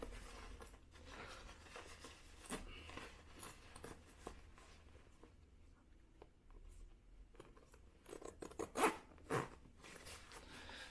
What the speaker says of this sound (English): So the whole package zips up like that.